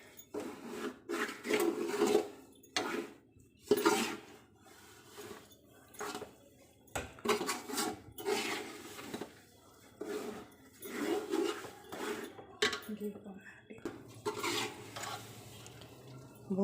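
Semolina for sooji halwa is stirred in a pan over very low heat, giving repeated dry scraping and rubbing strokes of the spoon against the pan in an uneven rhythm, fairly quiet and close with no talking.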